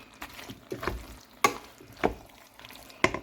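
A spice paste loosened with a splash of water is stirred in a pan for a soya meat dish, with a soft sizzle under sharp, irregular spoon scrapes and clacks against the pan, close and clear.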